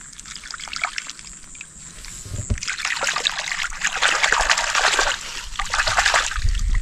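Cleaned crabs are rinsed in water at a night campsite, giving continuous splashing and trickling with sloshing bursts, close and fairly loud.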